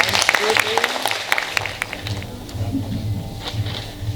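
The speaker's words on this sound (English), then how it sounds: "Let's give them a round of applause." An awards ceremony audience gives a round of applause, with brisk clapping at first that thins into scattered claps, a murmur of voices underneath.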